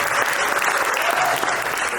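Dense, steady applause from a big, lively comedy-show audience, loud and close, filling the whole moment without a break.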